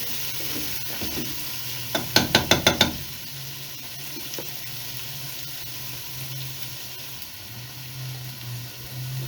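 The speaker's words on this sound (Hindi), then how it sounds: "आलूओं को इस मसाले के साथ अच्छी तरह से हम क्या करेंगे, भून लेंगे।" Potatoes fry and sizzle with masala in a pan, with a soft background hiss and a quick burst of scraping, clattering stirring strokes near the start, then gentle frying continues.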